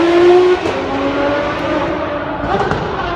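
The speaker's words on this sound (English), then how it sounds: "The V12 is so loud." Loud, close V12 roar from a Ferrari 599 GTO accelerating, a high engine note that shifts gear early on and keeps pulling, with crackles near the end.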